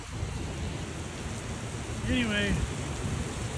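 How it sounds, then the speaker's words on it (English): Steady rain, tagged with thunder, pours down around a parked Harley-Davidson motorcycle, a dense broadband hiss that holds fairly even throughout while a short spoken word sits briefly on top. "look at it rain"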